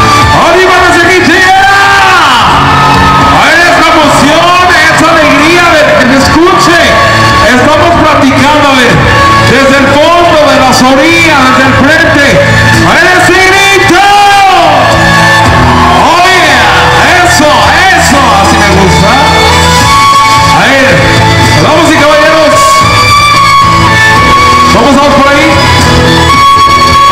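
A party crowd at a quinceañera shouting and cheering loudly and continuously, with a voice on a microphone urging them on over the dense, saturated crowd noise.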